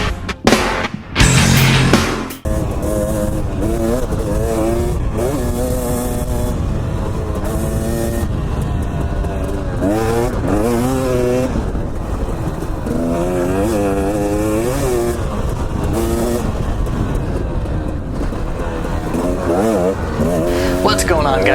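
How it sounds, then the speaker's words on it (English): Two-stroke dirt bike ridden across the desert, its engine droning loud and steady with rising and falling revs for nearly the whole stretch after a brief burst of other sound at the start. "Figured I'd give you guys a little bit of desert riding on the two-stroke today."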